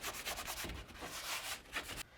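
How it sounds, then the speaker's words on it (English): A hand sanding block rubs back and forth over a drywall patch in quick, close, rasping strokes, alone and fairly loud. "We're going to take our sanding block right here. We're going to take out all the rough points right here."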